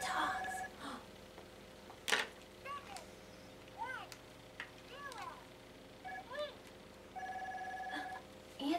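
A toy telephone gives off a few thin electronic rings and chirps among soft household noise, while people talk quietly nearby.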